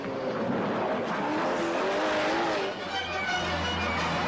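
Roaring engines and squealing tires of a high-speed car chase in the video game Detroit: Become Human, loud and continuous, with a brief dip before a low rumble takes over.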